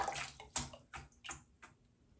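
Hot water poured from a kettle for shaving: a handful of short, splashy bursts at uneven intervals, quiet and close, with no talking.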